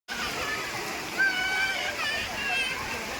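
Water splashes and sloshes continuously, like heavy rain and runoff nearby, with faint voices mixed underneath.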